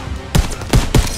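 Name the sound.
gunfire in Call of Duty WW2 video game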